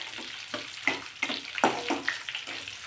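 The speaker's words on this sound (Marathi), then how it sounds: "एक मिनिटभर तुपामध्ये परतायचे आहे म्हणजे त्याचा छान स्वाद येतो" Carrots sizzle and crackle in hot ghee as they roast for carrot halwa, with soft bursts of frying and stirring scrapes in a quiet kitchen.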